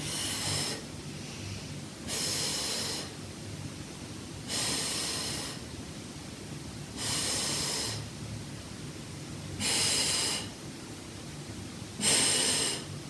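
Slow, audible breaths during a barre workout, about six long hissing exhales spaced roughly two seconds apart over a quiet room hum, with no talking.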